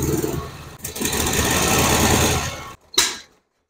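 A 1981 Harley-Davidson FXWG Shovelhead motorcycle engine runs close by with a steady, busy mechanical beat, then cuts out abruptly near the end before a short final burst.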